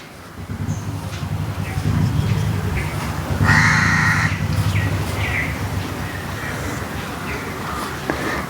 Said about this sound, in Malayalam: കാക്ക നമ്മുടെ അടുത്ത് അടുത്തിരുന്ന് കാറുന്നത്